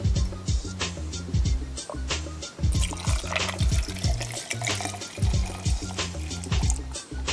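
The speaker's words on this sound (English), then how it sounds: "Then I'm going to add about half of a cup of good vodka," Unflavored vodka is poured into a cocktail shaker half full of ice for an apple cider martini, making a steady close splashing trickle with ice clinking and rattling all the way through.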